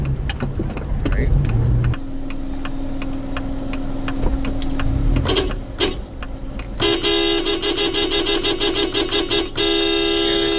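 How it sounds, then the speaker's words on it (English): A car horn beeps in a rapid run of short toots, then sounds longer, steadier blasts near the end, over a constant drone of traffic and engine noise inside a car. "You give them a slight little honk"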